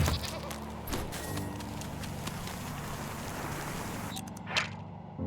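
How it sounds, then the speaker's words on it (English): A mountain goat in the game Wytchwood gives a short bleat amid a busy, noisy game soundscape, its call rising briefly near the end. "Mountain goat. A shaggier cousin of the familiar goat."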